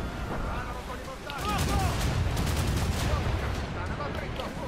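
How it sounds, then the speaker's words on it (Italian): Mortar fire and cannon blasts from a ship's guns during a naval battle in Assassin's Creed Rogue, heavy booms and crackling bursts repeating over a dense, continuous battle din, loud and close throughout. "vediamo se riesco a dirigere il mortaio là"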